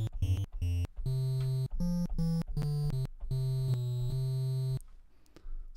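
Triangle-wave tones from a Magical 8-Bit Plug 2 synth play a short run of clean, hollow chiptune notes with a steady pitch on each, then cut to near silence at the end.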